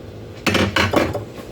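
A cake pan set down on a counter while a box cake mix batter is being readied, giving two or three close metallic clanks and rattles in quick succession with no talking.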